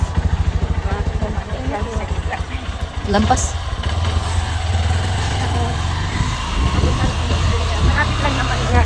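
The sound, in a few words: motorcycle engine as rider gets on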